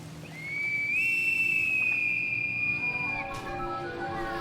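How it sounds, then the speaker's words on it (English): A single sustained high whistle resembling a bosun's pipe rises in pitch, holds steadily for about two seconds, then breaks off, followed by a softer tone over a faint background. "Then we hear a whistle like a bosun's pipe."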